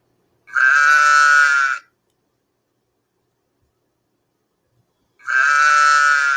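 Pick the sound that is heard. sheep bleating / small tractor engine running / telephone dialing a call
sheep bleating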